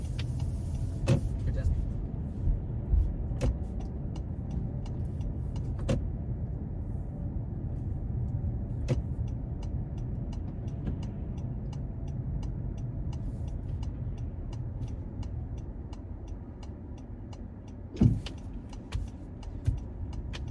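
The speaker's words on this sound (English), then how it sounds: "it makes that really weird hybrid car noise" Steady low hum of a 2025 Honda CR-V Hybrid Sport L driving through town, a constant rumble with faint intermittent clicks and a brief louder knock near the end; a person talks over it.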